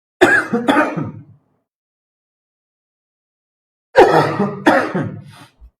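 Two bursts of harsh, close coughing, each a pair of quick coughs, separated by a few seconds of silence.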